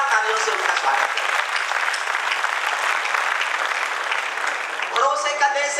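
A hall audience at a Hindi comic poetry gathering bursts into vigorous, sustained applause, dense and steady for several seconds before a voice briefly cuts in near the end.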